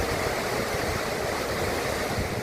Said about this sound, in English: authorities were forced to release water in a controlled manner to ensure the safety of the dam